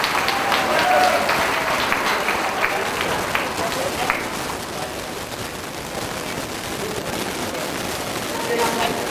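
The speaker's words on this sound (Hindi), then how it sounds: "अरे जोरदार ताली" An audience at a test-series prize distribution in Ranchi claps in sustained, loud applause that fills the room, with a voice speaking over it in places.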